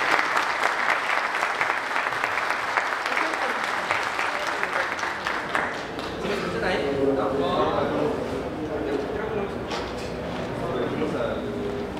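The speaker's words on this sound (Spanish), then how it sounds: "Y denle la bienvenida a Abdel, un aplauso." Audience applause at a talk on real-world security intrusions, steady clapping for several seconds that then thins out as a voice begins speaking over murmuring.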